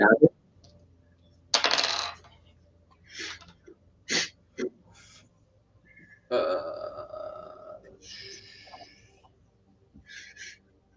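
Percentile dice tumbling during a D&D 5E tabletop session: several short, close clattering bursts separated by pauses, with a few faint vocal sounds between them.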